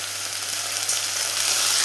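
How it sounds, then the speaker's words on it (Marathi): Ground masala and chopped coriander sauté in oil over a low flame while making a sprouted matki and kulith usal, giving a steady, close, even fizz with no pauses and no voices. "आता मसाला आणि कोथिंबीर आपल्याला कमी गॅसवरती छान असं तेल सुटेपर्यंत परतून घ्यायचं आहे"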